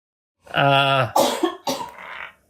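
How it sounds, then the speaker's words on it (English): A voice sounds briefly, then a short burst of two or three coughs up close from a woman, sharp and hacking, before silence. "she's allowed to cough"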